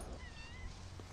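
Brief, faint cat meow from a video game, a single short wavering cry over a low background hum.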